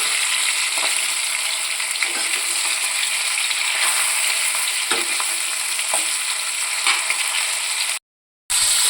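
Chicken pieces for biryani fry in hot oil with a dense, steady sizzle and small crackles throughout, close and loud, cutting out abruptly for a moment near the end before resuming.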